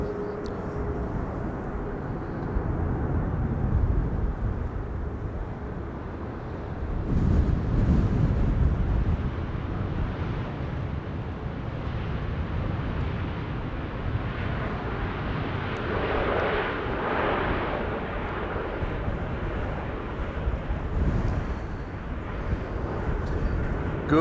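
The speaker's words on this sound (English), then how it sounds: "this is SAS flight 821 arriving from Oslo" An SAS airliner inbound from Oslo approaches Amsterdam Schiphol in gusty wind, its engines a steady broad roar that swells around the middle, with wind buffeting the microphone throughout.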